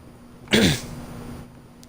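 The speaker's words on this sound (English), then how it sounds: "My cough is returning." A single short, rough cough or throat-clear bursts out close by, then fades into quiet room noise.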